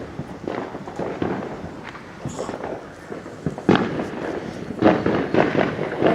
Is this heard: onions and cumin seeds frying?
no